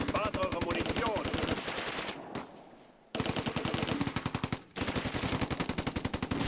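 Tank cannon and machine-gun fire in the Close Combat II World War II strategy game, long, steady rattling bursts of rapid shots, loud and close, broken by two brief pauses.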